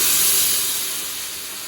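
Ground chutney hitting a hot tempering of mustard seeds and curry leaves, a loud burst of hissing sizzle that slowly fades and settles.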